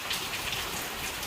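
Rain drumming on a rickshaw roof, a dense, close, steady patter of many drops with no voices.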